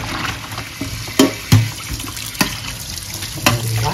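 Cut, peeled eggplant being rinsed in water at a kitchen tap, a steady running-water wash with a few louder splashes and knocks as pieces are handled, no talking.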